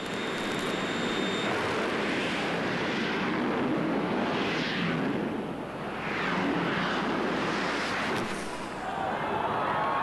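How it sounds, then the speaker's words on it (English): Two jet dragster cars launching near 300 mph at the 1983 NHRA Winternationals drag race in Pomona, California, a loud, sustained roaring blast that swells and surges, with a commentator talking over it. "Pretty close to 300 miles an hour for those two jet cars."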